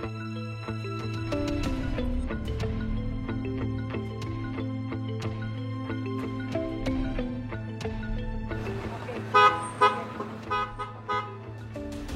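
Car horns honk in stalled traffic with a steady, sustained tone and several overlapping pitches, followed by a few short, sharp toots near the end.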